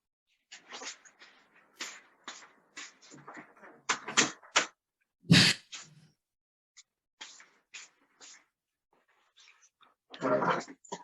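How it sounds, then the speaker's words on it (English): A door is shut indoors with one sharp, loud thud. Scattered softer bumps and taps come before and after it in a quiet room. "I want to close the door so that nobody disturbs us"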